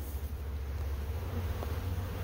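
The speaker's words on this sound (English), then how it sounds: "it won't be long, those bees will be coming on up" Bees buzz steadily around a Bee Happy top bar hive, a low, continuous droning hum at moderate distance with no talking over it.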